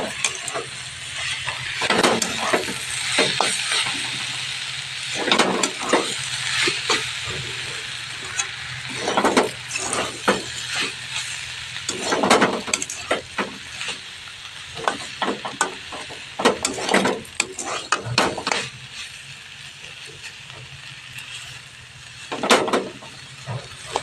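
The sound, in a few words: saag leafy greens frying and stirring in a wok on low gas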